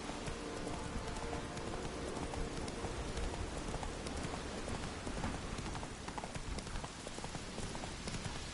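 Roach's hooves clopping steadily in The Witcher 3, a continuous fairly faint trot beneath a dense rain-like wash of ambient noise, with no voices.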